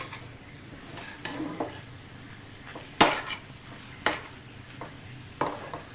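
Mashed potato mixture for aloo bharta roasting in a pan, with a spoon scraping and knocking against the metal in irregular strokes over a soft sizzle, close and clear.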